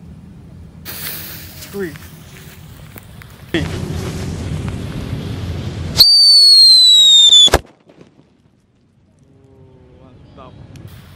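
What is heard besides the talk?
Whistling Thunder firecracker wrapped in paper exploding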